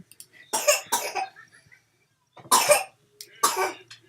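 Four sharp coughs from a nearby child, two quick ones in a pair and then two more after a pause, with quiet gaps between.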